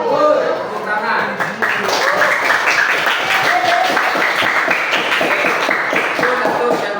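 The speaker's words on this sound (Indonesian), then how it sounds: "Tepuk tangan." A classroom of students claps together in praise, a dense, steady patter of many hands filling the room close by from start to finish.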